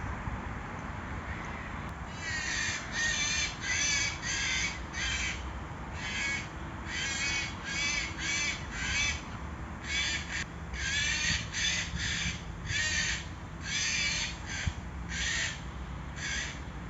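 Several crows squabble overhead, trading repeated harsh caws in irregular bursts against a faint breezy background, fairly loud and near, with no one speaking.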